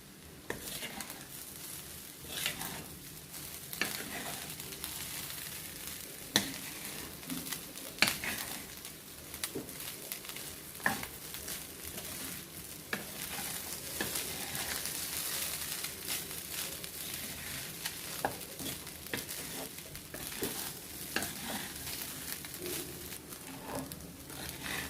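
Rice tossed with egg and salt in a hot pan gives a soft, steady sizzle with scattered scraping and stirring clicks throughout, fairly quiet and close, with no talk.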